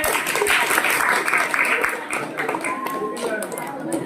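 Crowd at a magic show breaks into dense applause that thins after a couple of seconds into scattered claps, with voices mixed in near the end.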